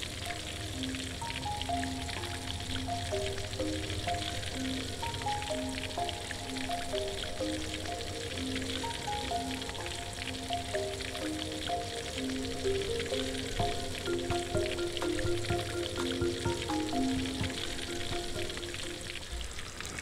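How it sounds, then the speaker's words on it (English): Steady, loud sizzling and crackling of fish frying in hot oil, continuous throughout with no voices. "While the fish is frying, make sure you baste it with the hot oil"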